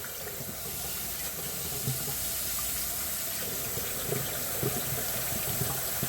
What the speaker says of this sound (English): this is going to be really loud, but I need to get the water hot